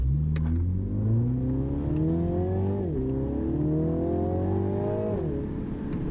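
A 2021 MINI John Cooper Works Countryman ALL4 accelerates hard, its engine note climbing steadily, dropping briefly at a gear change, then rising again through a second gear, loud and close throughout.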